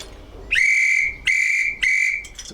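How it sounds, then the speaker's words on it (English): A school teacher's whistle sounds three strong, sustained shrill blasts in steady succession, loud and close with nothing else in the background. "Now we have a school teacher's whistle."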